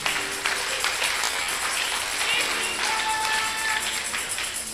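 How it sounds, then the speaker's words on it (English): A church congregation claps together during a prayer service, a dense, steady wash of many hands sustained loudly from start to finish with no voices on top. "Clap for Jesus"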